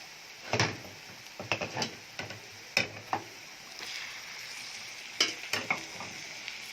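Minced meat with golden-browning onions frying in a pan, a low sizzle broken by scattered spatula scrapes and knocks in small bursts, close and fairly quiet, no voices.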